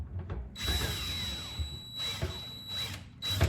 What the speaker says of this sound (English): Then you drill your hole